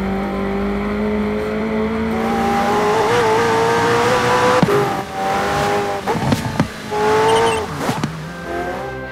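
McLaren Senna engine heard from the cockpit in the racing game Forza Horizon 4, loud and steady throughout with rising revs, gear changes and sharp pops or crackles near the end.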